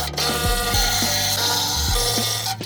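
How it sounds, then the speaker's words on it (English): A hand ratchet works loose 12mm heat shield bolts under a 2022 Subaru WRX, giving a rapid, close, continuous clicking with a few deeper knocks, no voices. "you wanna take off the 12mm bolts holding the heat shield"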